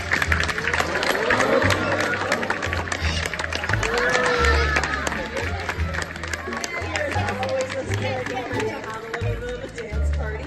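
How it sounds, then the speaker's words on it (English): An audience at a safari park bird show applauds a bird, scattered crowd clapping mixed with cheering and a presenter's voice talking over it throughout. "maybe a very big round of applause"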